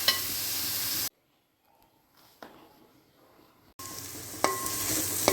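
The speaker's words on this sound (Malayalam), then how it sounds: "നമ്മൾ എല്ലാം ചേർത്ത് നമുക്ക് നന്നായിട്ടൊന്ന് വഴറ്റിയെടുക്കാം" Onion, green chili, ginger and curry leaves sautéing in a pan for a Kerala-style pork roast: a dense, close sizzle that cuts to near silence for a few seconds, with faint rustling, then returns strongly with a sharp scrape.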